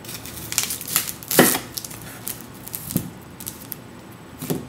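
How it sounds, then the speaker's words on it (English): A knife slices through an onion from pole to pole on a cutting board, a few crisp crunchy cuts and scraping taps spaced apart, close and fairly quiet, no talking. "So the way I cut an onion is I first cut it pole to pole."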